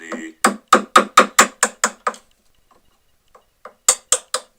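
An old chisel is tapped with a hammer in a workshop to raise a pin: a quick run of about eight sharp, evenly spaced metallic strikes, a few faint taps, then three more firm hits.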